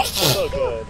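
A single sharp sneeze bursts out close up, immediately followed by people talking in a casual group setting.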